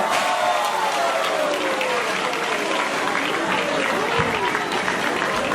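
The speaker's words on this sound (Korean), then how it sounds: "박수 부탁드리겠습니다" Steady applause from a crowd at the opening ceremony of the Seoul International Tourism Industry Fair fills the whole stretch, dense and continuous clapping at an even level.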